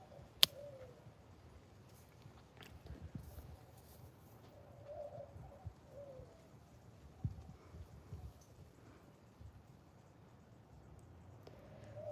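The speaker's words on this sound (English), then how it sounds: "I just like the birds, the sound of the birds" Pigeons or doves coo softly outdoors on a quiet morning, low hooting calls repeating now and then over faint ambient hush, with a few sharper distant clicks and no talk.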